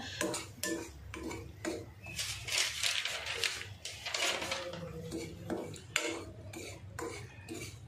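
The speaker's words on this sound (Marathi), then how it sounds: "पीठ मस्त एकदम आता खमंग भाजत आलं आहे माझं।" Millet flour dry-roasting in a pan while being stirred, with frequent metallic spoon scrapes and clinks against the pan in a busy, irregular rhythm, close and fairly loud, no voices.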